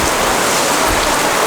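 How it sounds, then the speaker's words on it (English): Rain patters steadily and densely on and around a pork lechon roasting spit outdoors in the Philippines, a close, continuous hiss with no voices. "this rain hitting the back where the handle is"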